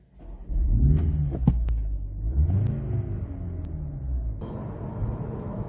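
A 2025 BMW M135 xDrive (F70) pulls away and drives on the road, its engine rising in a revving surge then settling into a steady rumble with a brief shift.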